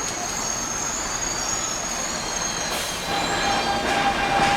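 An elevated subway train rumbles past overhead in Brighton Beach, a steady loud roar close by with thin high wheel squeals rising near the end, drowning out everything else.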